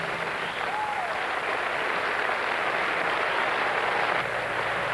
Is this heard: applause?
yes